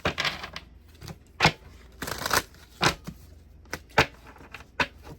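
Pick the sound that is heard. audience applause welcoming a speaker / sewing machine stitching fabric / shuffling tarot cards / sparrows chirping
shuffling tarot cards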